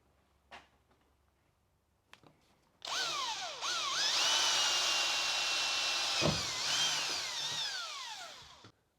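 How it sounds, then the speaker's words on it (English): A power drill with a 4mm bit drills pilot holes in a Land Rover Defender 110, whining steadily for several seconds after a few light knocks, its pitch rising and dipping as the bit bites, then cuts out. "you need to go around now with a 4mm drill bit just to pilot the hole"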